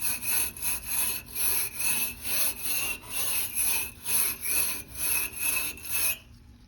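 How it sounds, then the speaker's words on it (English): A wool brush scrubs A/C coils in quick, rhythmic back-and-forth strokes, about two per second. Each stroke gives a close, bristly rasp, and the scrubbing stops near the end. "I'm cleaning this with a wool brush"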